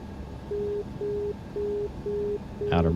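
A marker beacon tone sounds during an aircraft's landing approach in X-Plane 12, repeating as five evenly spaced steady beeps against quiet cockpit noise, and a brief louder chime comes in at the end.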